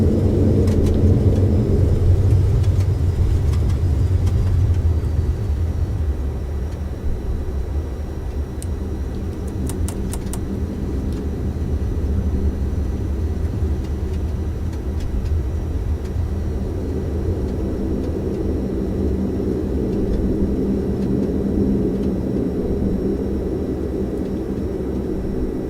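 Simulated Dash 8 Q400 turboprop rolling out after landing in stormy weather with manual braking, a loud steady low engine and rumble roar that eases slightly, with a few brief clicks midway and no voices.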